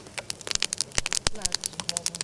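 Sharp, irregular crackles and pops from a burning fire, close by, with bursts clustering unevenly over a soft background.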